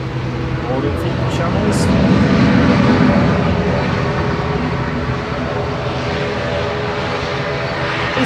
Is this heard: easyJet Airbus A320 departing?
yes